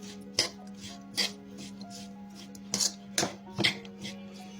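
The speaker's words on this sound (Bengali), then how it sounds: "আবারও সুন্দর করে নেড়ে নিতেছি।" A meat mixture with chili flakes is stirred in a pan with a utensil, producing a handful of sharp, separate scrapes and clinks at an uneven pace over a faint steady hum, with no talk.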